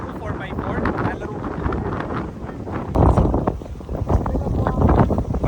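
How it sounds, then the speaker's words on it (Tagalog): Strong wind roars and buffets the microphone near the windmills of Ilocos Norte, a constant rumbling gusty noise with sand being whipped about and occasional stronger blasts. "Sa sobrang lakas ng hangin, humahampas dun sa buhangin."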